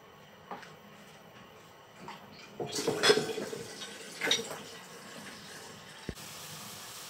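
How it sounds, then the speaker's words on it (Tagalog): Water runs into a cooking pot from a tap, a low steady splashing stream that swells in the middle with a few brighter sloshes before easing off, indoors in a home kitchen. "magpakulo tayo ng tubig para sa ating noodles"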